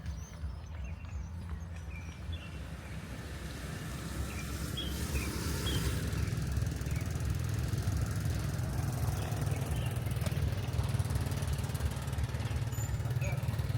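A car engine hums steadily with low rumble and road noise while driving through a Vietnamese street in the early morning at 5 AM, growing slightly louder after a few seconds, with faint distant sounds overhead.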